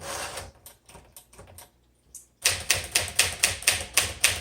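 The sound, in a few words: typing on a 1958 Smith Corona Sterling typewriter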